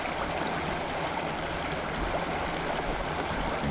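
Floodwater rushing over a scale model roadway and washing it out, a steady, full gushing roar of flowing water like a stream, constant and fairly close with no voices.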